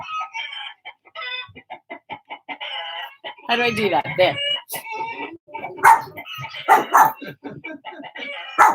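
Recorded chickens cluck and crow loudly in a busy jumble, played through a speaker, with dogs barking and a person briefly speaking.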